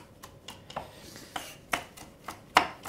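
Pistachio nuts being roughly chopped with a knife on a board for a chestnut slice, a string of sharp, irregular chops close up, a few landing harder than the rest.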